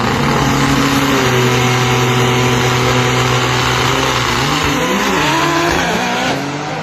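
Nissan GTR drag car screaming hard down the strip at full throttle, a loud sustained engine roar climbing through the gears with a brief dip near the end, no talking.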